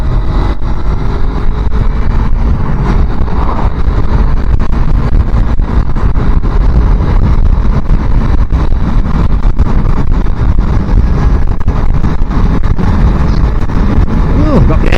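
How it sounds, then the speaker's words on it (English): Wind buffeting a small-engine motorbike rider on an early morning ride, a loud constant rumbling roar, with engine noise underneath and some talk. "got the wind behind me now"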